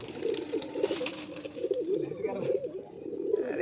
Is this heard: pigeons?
yes